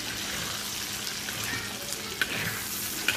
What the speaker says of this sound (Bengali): এই যে উল্টে পাল্টে দিব একটু পরপর, এভাবে এটার ভাজবো।